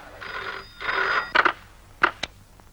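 A telephone bell rings in two short bursts, followed by a few brief clicks and beeps, close and clear with no talking.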